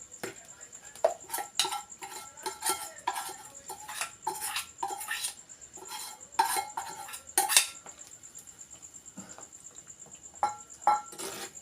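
Fried mustard seeds, chillies and curry leaves are tipped into a pot of coconut-based ginger curry, giving repeated clinks and scrapes of a metal spoon against the vessel with light stirring, fairly close and steady throughout.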